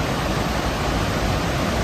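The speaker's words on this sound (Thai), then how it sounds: "นี่ฮะชมความยิ่งใหญ่สวยงามของน้ำตกแห่งนี้ครับ" Kalandula waterfall in Angola, one of Africa's largest, roars as a dense, loud, unbroken broadband rush heard close from the cliff edge.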